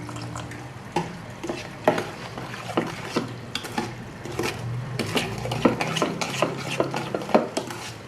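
A utensil stirs simple pancake batter in a bowl, giving steady rhythmic scraping and clinking strokes close up, with a low steady hum underneath and no talking.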